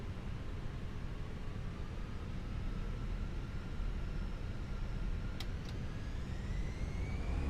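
Airbus A319 engines spooling up for takeoff in a flight simulator game, a steady dense rumbling roar with rising whine tones, constant and loud with no voices.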